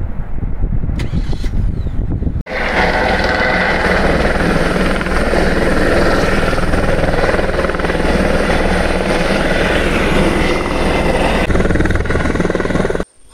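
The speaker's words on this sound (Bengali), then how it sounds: "চলুন সামনে দেখাচ্ছি হেলিকপ্টার কিভাবে নামছে।" Helicopter landing at a mountain helipad in Harsil, its loud, steady rotor thump and turbine roar nearby and sustained for most of the time, after a brief stretch of road and vehicle noise.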